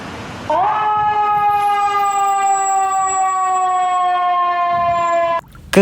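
A toy ambulance sounds its siren in one loud, steady electronic tone with rich harmonics. It starts after a brief rising sweep, holds for about five seconds, then cuts off abruptly.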